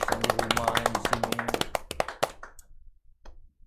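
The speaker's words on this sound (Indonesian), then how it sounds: "beri tepuk tangan dulu Tribuners yang di rumah yang di sini" Audience applause after a band performance at a live studio show, a dense burst of clapping up close that thins out and fades, ending in a few scattered claps.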